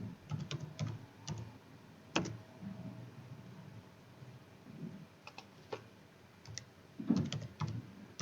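A computer keyboard clicks close by in irregular bursts of keystrokes while someone writes HTML, with short pauses between flurries of typing.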